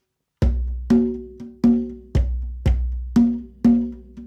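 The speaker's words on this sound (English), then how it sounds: "And then I played a variable rhythm at that same tempo" Resonant hand drum played in an uneven, variable rhythm, about eight loud close strikes with irregular gaps and a ringing pitched tone between hits, and no one speaking.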